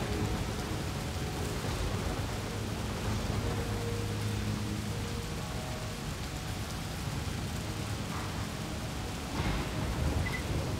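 A steady storm in the video game Cliff Empire, with dense rain hissing continuously and low thunder rumbling beneath it, with no voices.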